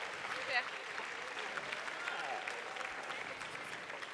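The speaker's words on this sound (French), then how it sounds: "Sous vos applaudissements, bien sûr, on va faire une photo de promotion." Sustained applause from a crowd at a business school diploma ceremony, a dense, even wash of many hands clapping at a distance, continuous and moderately quiet throughout.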